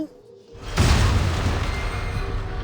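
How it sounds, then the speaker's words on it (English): In the Reverse 1999 video game, an explosion booms up from deep inside a ship. A sudden heavy blast breaks a near-silence, then a long rumbling roar lingers, loud and sustained, with no voices over it. "An explosion booms from the ship's depths."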